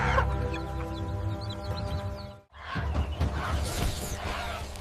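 A mother hen clucks close by in an African farmyard, a run of short rough calls with a brief pause midway, then more agitated clucking and fluttering noise.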